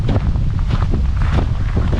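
Strong, gusty wind buffets the microphone outdoors at the medieval Hämeenlinna castle in Finland, a loud continuous rumbling roar with no break and no talking.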